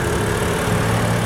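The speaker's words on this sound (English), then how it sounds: "here you'll find your inline 6-cylinder engine just purring away like brand new" A 2006 BMW 325i sedan's inline six-cylinder engine idles under the hood with a steady, dense, unbroken hum, loud and close with no talk.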